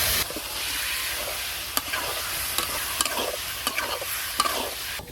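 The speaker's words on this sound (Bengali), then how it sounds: "মশলা ভাজা হয়ে গেছে, এবার কচু দিয়ে দেব।" Taro pieces sizzling in hot oil with fried spices in a pan, a continuous close fry hiss broken by several sharp spoon-stirring clacks, no talking.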